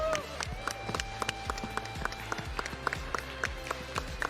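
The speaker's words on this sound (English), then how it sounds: "Huge round of applause again to Squirkit." Applause and cheering from a crowd greet a champion at a youth dirt bike racing national championship, a dense patter of claps and footsteps-like thumps at moderate distance, steady throughout.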